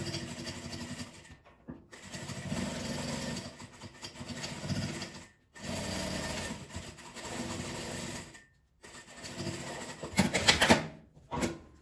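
A sewing machine stitches around the rounded fabric lining of a small patchwork keychain pouch structured with felt, running in close, steady whirring bursts separated by short pauses, with no talking.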